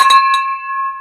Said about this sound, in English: it's a half bell ring